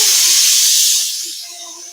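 Steam hisses hard from a pressure cooker in a home kitchen, a loud, steady, airy rush that eases off and grows quieter over the last second, with no voices.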